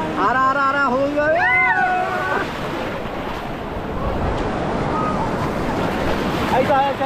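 Ocean surf washes steadily at Vizag beach on the Bay of Bengal, a continuous rushing roar mixed with wind buffeting the microphone, while a voice speaks briefly at the start.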